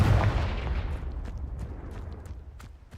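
A Confringo explosive spell cast in the video game Hogwarts Legacy bursts with a loud, deep boom that rolls off and fades over a few seconds, with faint crackles trailing behind and no voices.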